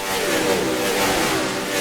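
NASCAR stock car engines screaming at full throttle at Las Vegas in NASCAR Racing 2003, a loud sustained high-pitched roar with wavering pitch as cars pass, heard without talk.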